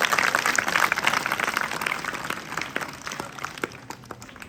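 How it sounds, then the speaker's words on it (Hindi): A crowd at a children's award and prize ceremony claps in a dense, steady burst that starts loud and gradually thins and softens over a few seconds. "इनके लिए तालियां बजाओ सभी"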